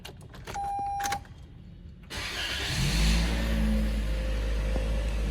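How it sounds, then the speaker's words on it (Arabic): A Toyota Corolla engine starts up inside an enclosed showroom after a few clicks and a whirring chime, catching at about two seconds and settling into a loud, booming idle that fills the room. "هحاول كده ادور لكم العربيه"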